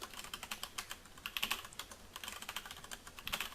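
Close, rapid keystrokes on a computer keyboard as a password is entered during a Xubuntu 14.04 Linux installation, an irregular run of light clicks with a few brief pauses and no talking.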